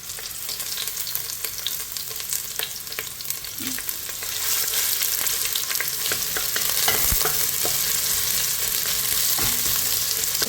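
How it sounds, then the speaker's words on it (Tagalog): Onions sautéing in olive oil make a close, continuous sizzle, stirred now and then with scraping clicks, and the frying grows louder and busier about halfway through, with no one talking. "Bali, olyo di oliba ang gagamitin ko dito na panggisa. Unahin ang sibuyas."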